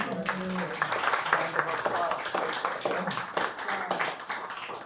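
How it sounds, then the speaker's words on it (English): Audience claps for an ambassador after a talk on Syria, a moderate uneven patter of hands mixed with voices talking over it, fairly close and continuous. "how about a great big hand of applause?"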